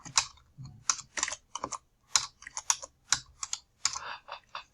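Fast, uneven bursts of keystrokes on a computer keyboard, close and clear in a quiet room, coming in short clusters with brief pauses between them and no voice.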